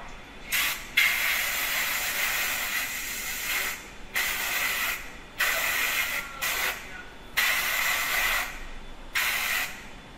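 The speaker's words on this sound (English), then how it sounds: "Then we will use compressed air to dry the part." Compressed air blasts drying a freshly cleaned DLP resin 3D printed part from an Accufab-D1 printer, loud close hissing bursts of about one to two seconds each, separated by brief pauses, with no talking.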